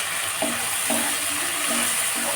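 Prawns frying in a pan for chilli prawn, sizzling loudly after a splash of water is added, with a steady hiss and a few soft stirring knocks.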